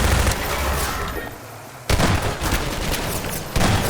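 Gunfire in the video game Half-Life 2, loud rapid bursts of shots with a brief lull in the middle and another burst starting near the end, with no talk.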